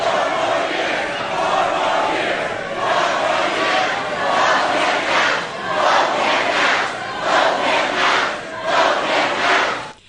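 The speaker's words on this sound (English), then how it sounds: "Boisterous partisans from both sides cheered their candidate and tried to rattle the opponent" A boisterous, partisan political crowd at the Fancy Farm Picnic roars and cheers continuously, with shouted chants swelling in rhythmic bursts over a steady loud wash of voices.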